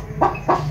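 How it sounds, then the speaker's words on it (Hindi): A farm hen with her chicks gives two short, close clucks in quick succession, loud and clear with no talking over them. "मुर्गी और उसके बच्चे,"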